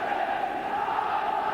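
A football stadium crowd at the 1985 Scottish Cup semi-final replay between Aberdeen and Dundee United, a steady, moderately loud wash of distant murmuring and chanting voices.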